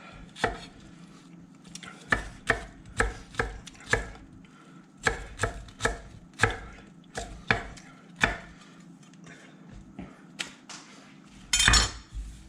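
A knife dices onions on a cutting board in a series of sharp, close chops, first in a quick regular rhythm, then in more spaced strokes, ending with a brief scraping burst.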